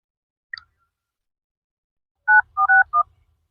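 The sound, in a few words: dialing a mobile phone, keypad tones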